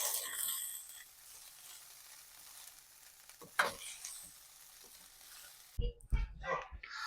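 Dal fry and jeera rice being mixed in a pan, with a soft steady sizzle and scraping stirs, then a few louder spoon-against-pan knocks near the end.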